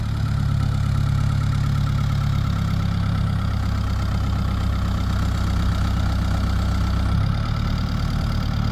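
A heavy tractor engine idles steadily with a deep, constant low rumble and faint knocking, shifting slightly in pitch near the end.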